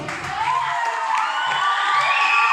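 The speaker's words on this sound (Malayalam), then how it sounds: "ഇപ്പോ ഒരു പൂവെടുത്ത് സാറിന് അതിലേക്ക് നമുക്ക് എല്ലാവർക്കും കൈയടി കൊടുക്കാം" Crowd clapping and cheering, a steady wash of applause with some excited voices mixed in, sustained throughout.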